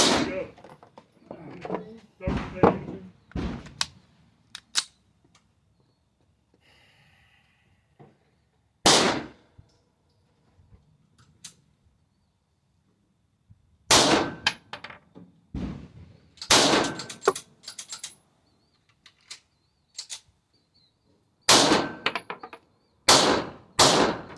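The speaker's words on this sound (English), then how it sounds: "Let's move on to the 124 grain. All right, next up, 124 grain PMC Brown." Sharp pistol shots from an FN Reflex XL firing 124 grain PMC Brown ammunition at an outdoor range, loud cracks coming singly and in quick clusters with quiet gaps between, and people talking in the early part.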